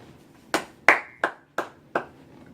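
Five slow, sharp, evenly spaced claps ring out in a quiet studio lounge as a champion guest named Icon is welcomed, each crisp and close with a short decay and nothing else around it.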